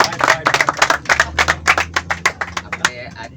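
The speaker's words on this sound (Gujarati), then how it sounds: "શું કે ડલવીભાઈ ડેબ્યુ છે એટલે ભાઈ બધાય તાળીઓથી વધાવી લ્યો ડલવીભાઈ" Scattered clapping at a college sports competition welcoming a new debut player, a loose uneven run of sharp claps from a small group, fairly close.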